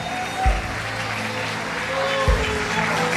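A church congregation applauds during a worship service, a steady wash of clapping with a couple of low thumps, moderately loud throughout.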